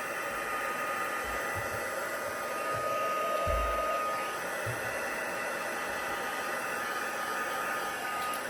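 A craft heat tool blows hot air over embossing powder on a handmade card, giving a steady, even whoosh like a hair dryer that stays at the same moderate level throughout.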